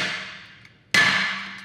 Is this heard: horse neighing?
no